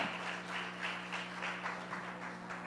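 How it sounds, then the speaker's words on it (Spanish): Congregation applause in a church service, a steady, moderately distant wash of many hands clapping with a soft pulsing rhythm over a low room hum. "un aplauso al Señor, que eso es poderoso"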